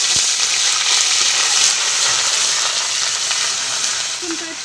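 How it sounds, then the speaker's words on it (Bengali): Ginger and garlic paste sizzling hard in hot oil in a pan, loud, dense and continuous frying hiss close up, easing slightly toward the end. "একটু 1 মিনিট মতন ভালো করে ভেজে নেব"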